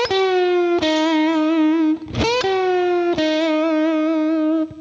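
Distorted electric blues guitar playing sustained bent notes, a bend coming out of nowhere paired with an initial bend, with a brief scratchy pick attack in the middle, loud and close with no talking.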